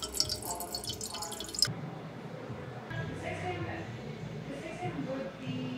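Liquid drips and sloshes as an aminos drink is swirled inside a plastic water bottle, soft and close, with someone talking over it.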